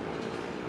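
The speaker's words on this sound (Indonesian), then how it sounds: "kereta api Argo Wilis sudah diberangkatkan dari stasiun Bandung" Argo Wilis passenger train pulling out of Bandung station, a steady close rumble of rolling wagons with faint wheel clatter, no voices.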